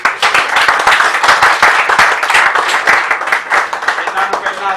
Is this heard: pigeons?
no